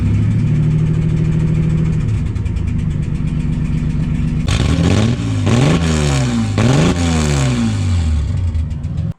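Ford AU Falcon drift car engine pulling in fifth gear, a steady mid-pitched drone that builds, then loud rising and falling revs swell and dip repeatedly in the second half, close and continuous with no talk.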